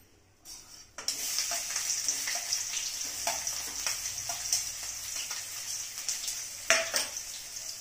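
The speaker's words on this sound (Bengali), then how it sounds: "পেঁয়াজগুলো একটু ভাজা ভাজা হতে হবে, মোটামুটি একটু ভাজতে হবে পেঁয়াজগুলো" Chopped onions frying in hot oil, a continuous bright sizzle with occasional spatula stirs and clinks against the pan, close by and without speech.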